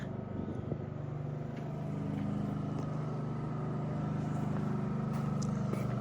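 An old 1968 Oldsmobile Delmont 88 engine with a cut exhaust idles steadily with a rough, throaty exhaust rumble, close by and continuous without a break.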